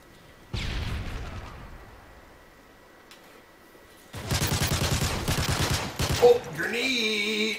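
Bursts of rapid gunfire in Call of Duty, one short volley early and then a longer loud rattling stream of shots near the end, followed by a tonal game sound.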